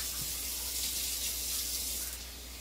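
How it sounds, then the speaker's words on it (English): Cold water runs from a kitchen tap into a cup while bread dough is being made. A steady, hissing splash of moderate loudness continues throughout with no voices. "Put some cold water in there."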